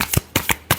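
A tarot deck gives a few quick, close card slaps and riffles, four short crisp hits in under a second.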